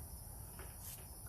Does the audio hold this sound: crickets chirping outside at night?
yes